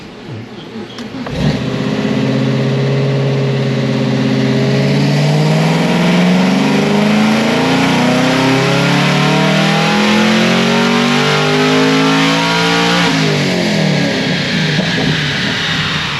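A supercharged fifth-generation Camaro ZL1 on 17 psi of boost, tuned with added timing and less fuel, revs through a long dyno pull, its loud engine tone climbing steadily for many seconds before cutting off near the end.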